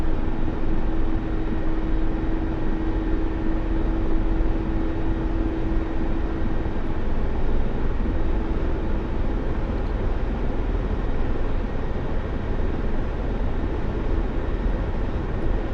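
A Mi-24 Hind helicopter in a flight simulator game drones with a steady, dense engine and rotor roar at constant loudness throughout, with a faint tonal whine in the background.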